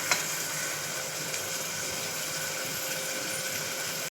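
Onions fry in a pan with a steady, even sizzle, a continuous hissing wash at moderate level with a faint clink at the start and no talking.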